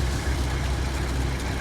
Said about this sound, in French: il va falloir que tu coupes ton moteur